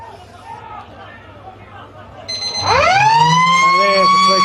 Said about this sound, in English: And there's the three-quarter siren.